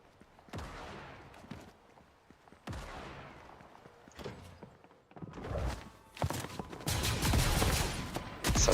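Shotgun blasts in the Fortnite video game, with several heavy booming shots spread out, then a dense burst of gunfire and impacts building up toward the end.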